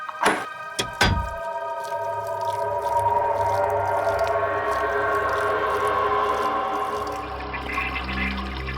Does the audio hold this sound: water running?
yes